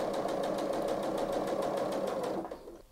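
A home sewing machine stitches a twin-needle seam on a scrap of knit fabric, running at a fast, even mechanical patter close by for over two seconds before slowing and stopping.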